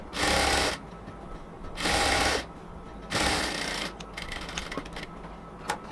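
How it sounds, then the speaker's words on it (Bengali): Sewing machine running a double line of stitching along a cotton kameez seam, in three loud bursts of about a second each with short pauses between, then quieter handling of the fabric. "এই পাশে হচ্ছে আরেকটা ডাবল সেলাই দিয়ে দেব"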